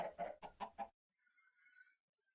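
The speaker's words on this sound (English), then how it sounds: "I've got to move them chickens. They're getting really annoying." Chickens in a video game cluck in a quick burst of five or six loud, close notes, then fall silent, leaving only faint, thin chirping afterward.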